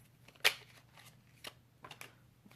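A deck of tarot cards is shuffled by hand, with one sharp riffle burst followed by several softer flicks and slides, close and quiet, with no talking.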